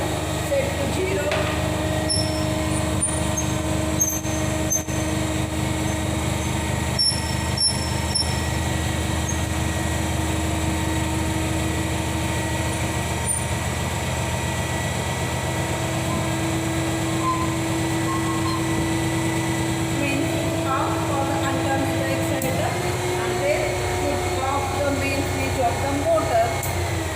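An alternator machine set runs under load test in a lab with a steady mechanical hum and whine, and the tone shifts partway through. Someone talks over the running machine.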